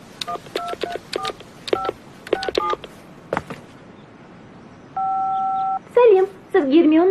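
A telephone is dialed as a quick series of keypad tones, followed by a steady ringing tone. A voicemail greeting voice then begins.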